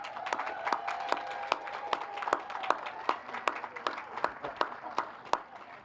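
Scattered applause from a crowd at a groundbreaking ceremony for a new senior center in Tallahassee, with sharp individual claps over a steady patter, moderately loud.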